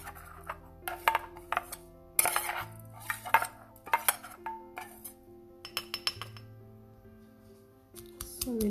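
A pestle works ingredients coarsely in a mortar, giving an uneven run of close, clinking knocks and scrapes that thin out into quieter taps toward the end.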